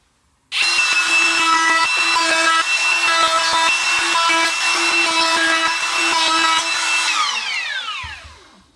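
A power router whines steadily as it cuts a quarter-inch round-over edge in wood, the tone wavering with the cut, then spins down and fades after the motor stops.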